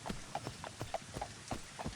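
Horse hooves clip-clop at a steady trot in the game Daggerfall, about six or seven evenly spaced hoof strikes, moderately loud and close with no talk.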